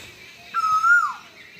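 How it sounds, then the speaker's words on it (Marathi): An Asian koel gives a single clear, rising whistled call, fairly close and loud against a quiet background, with no one speaking. "कोकिळ आता इथं आली कोकिळ इथं आला आता"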